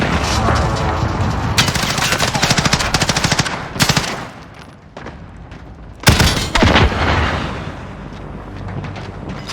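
Rapid automatic gunfire and explosions in the Call of Duty: Warzone video game, loud close bursts with brief pauses and a heavy blast partway through, with no talking.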